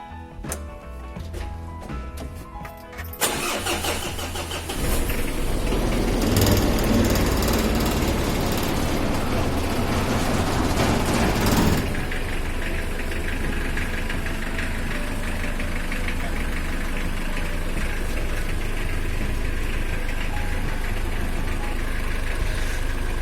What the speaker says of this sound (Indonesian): Kita dengarkan suara khas mesin diesel